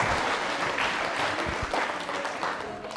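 Applause from a school audience at a Lord Mahaveer quiz show rings out steadily for about three seconds, dense and sustained with a few stray voices mixed in.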